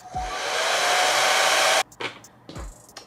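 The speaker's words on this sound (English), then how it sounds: "Let me blow dry this." A hair dryer blows a wig dry in one loud, steady whooshing burst lasting nearly two seconds, then cuts off, followed by brief rustling and handling sounds.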